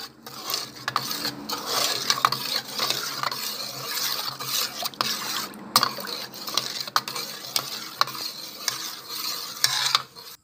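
Stirring a dessert mixture with water in a pot or bowl, a steady scraping swish with frequent small clinks of utensil against the container, continuous and close for about ten seconds.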